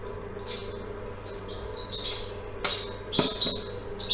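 Several small birds chirp and tweet in short bursts at close range in a coop, over a faint steady background hum.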